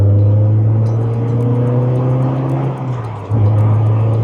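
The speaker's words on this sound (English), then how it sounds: "Man, I just love the S2000, TJ. I love it. It drives so freaking cool" A Honda S2000 sports car drives along with a steady engine drone that dips briefly, as if on a gear change or lift-off, then picks back up, heard close and loud from inside.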